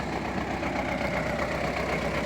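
An MTZ tractor engine, freshly repaired and being gently run in at a field, drones steadily and close by without a break, a continuous mechanical rumble with no voices.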